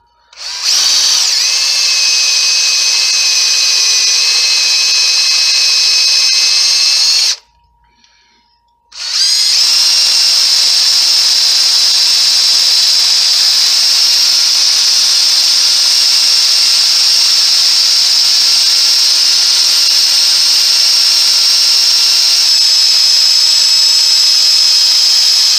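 A power tool trims a 7.7x58mm brass cartridge case, its loud, steady high whine running close up, cutting off briefly and then spinning up again for a long continuous stretch, no talk.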